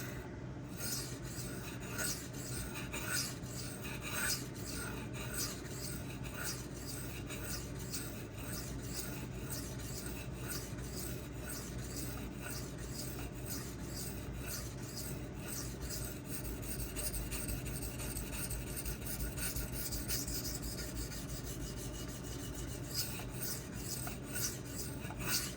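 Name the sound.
sharpening ZDP-189 and MagnaCut knives on Suehiro Debado whetstone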